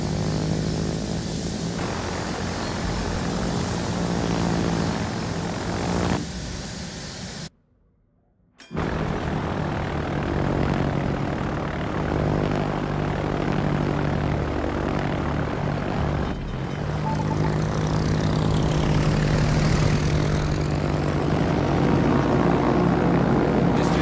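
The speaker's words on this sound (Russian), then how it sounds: "Истребитель взлет произвел." In a naval video game, a propeller-driven fighter plane takes off from a carrier with a loud, steady droning engine roar. The sound cuts out briefly, then resumes and swells as the aircraft climbs.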